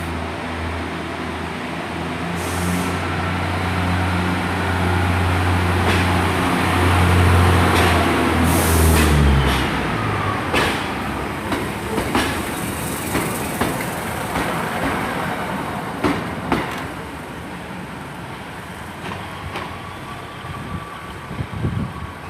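Class 143 and 153 diesel multiple units, numbers 143612 and 153333, pull out of Exeter St Davids station on a Paignton service. A loud throbbing engine drone builds and then fades into the echoing station din, with scattered rail clatter.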